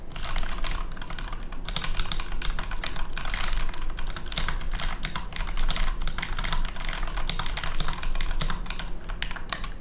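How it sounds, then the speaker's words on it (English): Someone types continuously on a computer keyboard, with dense rapid key clatter close to the microphone for about ten seconds and no speech. "You wanna hear me type at my keyboard?"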